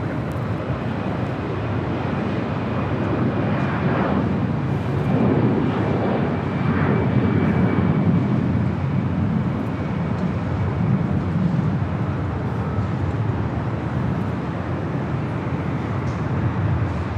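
A jet airliner roars steadily at Los Angeles LAX airport, a broad sustained engine rumble that swells gently and holds loud and fairly near throughout, with no talk over it.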